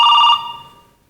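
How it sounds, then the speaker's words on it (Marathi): A telephone rings once, loud and close, its bright bell tone holding briefly before fading out, with no talk over it. "फोन वाजतोय"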